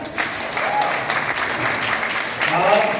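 Applause from an audience at a Lions Club award ceremony, dense steady clapping filling the room for a few seconds, with some voices underneath.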